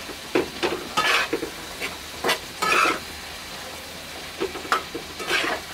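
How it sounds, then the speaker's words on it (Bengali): Pumpkin and bori fish curry stirred in a pan, a series of distinct scraping and clinking spoon strokes in irregular bursts over a low background sizzle, no voices. "নেড়ে চেড়ে দিচ্ছি"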